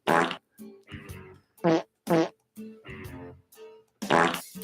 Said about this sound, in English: Do you think somebody actually farted these farts?